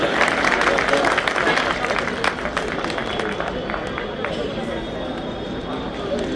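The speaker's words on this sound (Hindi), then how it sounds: "जोरदार ताली भाई, थोड़ा सा" Applause from the crowd at a Delhi bar council event at Tis Hazari, a dense clapping that starts strong and gradually thins and softens, with voices mixed in.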